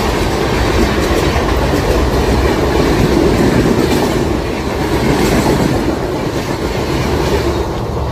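A special passenger train running from Rajahmundry to Araku rumbles steadily on the rails, a loud continuous roar with faint clickety-clack from the wheels throughout.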